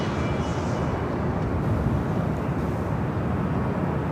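A Frontier Airlines A320neo jet in Florida Manatee livery arriving at LAX, heard as a steady, broad, continuous roar of engine noise that holds at an even level throughout, with no voices.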